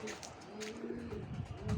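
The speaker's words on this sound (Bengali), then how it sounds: "এই যে আজকে ছাড়লাম, ছাইরা কবুতরগুলো উড়াইতেছি।" Pigeons coo softly on a rooftop garden, low rolling calls fairly close but faint, with a voice faintly audible in the background.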